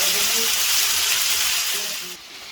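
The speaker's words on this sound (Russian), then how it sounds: "Ну, уже поджаривается курица, подрумянивается частично." Chicken pieces fry for paella, giving a continuous close sizzle of hot oil that fades down slightly near the end, with a faint voice in the background.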